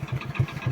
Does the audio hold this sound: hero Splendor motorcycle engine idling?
yes